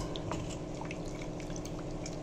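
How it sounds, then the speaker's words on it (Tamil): Water sloshes and pours as a mixer jar is rinsed and emptied into a pot of Tamil eggplant tamarind kootu, a steady close splashing trickle with no voices. "இந்த மிக்சி ஜாரையும் கொஞ்சம் ஜலம் விட்டு அலம்பி குத்திக்கலாம்."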